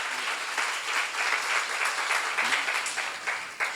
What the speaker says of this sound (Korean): 최선을 다해서 지극히 적은 일에 인정받기를 원하시면 박수 한번 치세요.